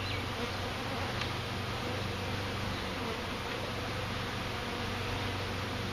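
Honeybees buzz continuously during the installation of a new beehive, a dense, close swarm drone with a steady hum and no talking.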